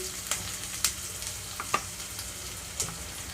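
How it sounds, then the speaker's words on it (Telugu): Onions and green chillies frying in hot oil for a tempering, a steady soft sizzle with a few sharp crackles and pops scattered through, close and unaccompanied by talk. "ఇక్కడ ఉల్లిపాయలన్నీ చక్కగా వేగిపోయే వరకు ఉండాలి"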